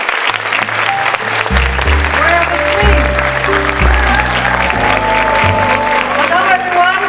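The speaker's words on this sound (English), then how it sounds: "Please welcome Bella with a warm applause" Applause at a school's tenth-anniversary event, clapping spread across a hall while loud background music with a steady bass line plays throughout, the clapping partly blended under it.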